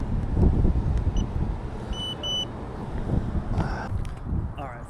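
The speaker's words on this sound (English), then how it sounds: "it's really windy" Gusty wind buffets the microphone with a heavy low rumble throughout, and a couple of short electronic beeps sound partway through.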